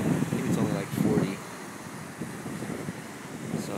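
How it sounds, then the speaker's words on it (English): Cold, strong wind buffets the microphone at Race Point on the Cape Cod National Seashore, a rough low rush that swells in two gusts and then eases. "It's pretty cold out here right now. Very windy."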